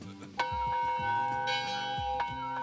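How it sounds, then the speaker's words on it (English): A dinner bell rings out clearly, struck a few times with bright ringing tones that linger and overlap, alone with no talking. "I said I'm going to sit here until I hear that dinner bell."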